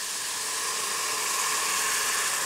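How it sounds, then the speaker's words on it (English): Broth poured into a hot Instant Pot sizzles in a steady, moderately loud broadband hiss, with no speech. "See how it kind of sizzles like that"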